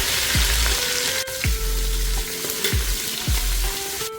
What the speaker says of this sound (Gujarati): લાલ સૂકા મરચાં એ હવે આપણે એડ કરી દઈશું.